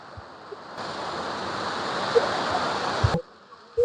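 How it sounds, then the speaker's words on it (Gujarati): Heavy water pours down from above at a hillside temple in the rain, a loud steady rushing roar that starts abruptly, runs for a few seconds and then cuts off, with faint thumps nearby. "ગજગજનું પાણી પડે છે નીચે।"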